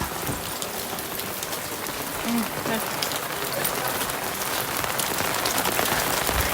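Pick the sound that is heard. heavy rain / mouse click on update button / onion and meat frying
heavy rain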